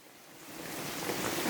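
Heavy rain pouring outside aboard a sailing boat in French Polynesia, a dense steady hiss that grows louder over a brief moment, with no voices.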